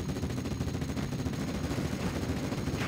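Dense, continuous machine-gun and rifle fire crackles in a Steel Division Normandy 44 multiplayer battle, including a Vickers gun, as a steady rattling barrage at moderate loudness with no talking.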